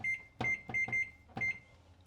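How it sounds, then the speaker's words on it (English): A kitchen timer is set to five minutes, giving a short series of bright electronic beeps close by, some longer and some clipped, with no talking. "I'm going to set another 5-minute timer."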